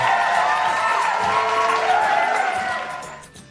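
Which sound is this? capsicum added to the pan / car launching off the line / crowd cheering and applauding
crowd cheering and applauding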